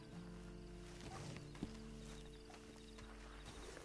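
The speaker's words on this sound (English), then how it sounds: "Then you better get on this horse." Horse hooves clip-clop at a steady walking pace in the video game Red Dead Online, fairly close and clear over a low ambient hum, with one sharper hoof strike partway through.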